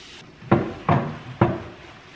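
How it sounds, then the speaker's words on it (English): Three short sprays of water mist hiss out in quick succession onto painted furniture, each a brief breathy burst with a sharp start, close by in a quiet room. "I'm just going to mist water"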